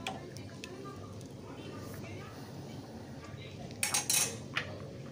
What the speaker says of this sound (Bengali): এখন নাড়াচাড়া করে নিচ্ছি একটু ভালো করে